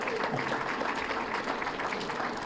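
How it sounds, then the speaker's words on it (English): A live election-night audience applauds steadily, dense clapping filling the room at a constant level from start to finish. "Give them a round of applause."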